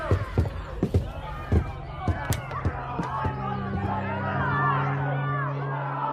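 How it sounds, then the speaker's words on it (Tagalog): Outdoor crowd of people shouting and clamoring, with scattered sharp yells and thumps over a steady babble of many voices, fairly close and building toward the end. "May naririnig akong sigawan ng mga tao"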